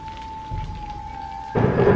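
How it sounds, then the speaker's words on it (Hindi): Torrential rain with thunder as a sound effect: a steady tone holds at first, then a loud broadband rush of heavy rain and rumbling thunder bursts in near the end. "बारिश इतनी मूसलाधार थी"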